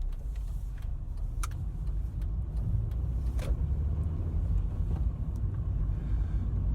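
A learner car creeps away slowly from a stop, its low engine rumble steady and close, with a few faint clicks and light rattles over the hum.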